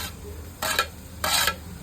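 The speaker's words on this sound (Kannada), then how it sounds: "ಸ್ವಲ್ಪ ಚೆನ್ನಾಗಿ ಫ್ರೈ ಆಗಬೇಕು ಈರುಳ್ಳಿ, ಡೀಪಾಗಿ" Onions and green chillies fry in a pan, a low sizzle broken by two short bursts of louder stirring scrapes, close and without talk.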